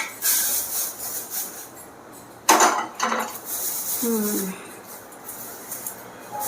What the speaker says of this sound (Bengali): এটাকে একটা থালায় বের করে নিই ঠান্ডা করার জন্য